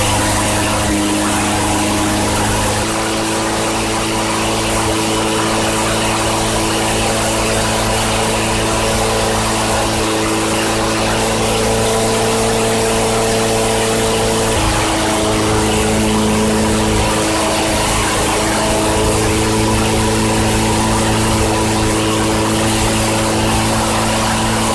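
A 2002 Craftsman Tecumseh 4.25 HP small engine, just revived after repair, runs steadily and loudly up close, with a continuous droning putter and no talk.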